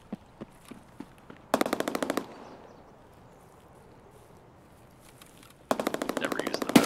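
Two long bursts of rapid automatic gunfire from a machine gun in a shooter game, Escape from Tarkov-style raid in woods, loud and close with a short quiet gap and scattered single shots between.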